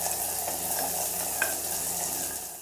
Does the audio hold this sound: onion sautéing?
yes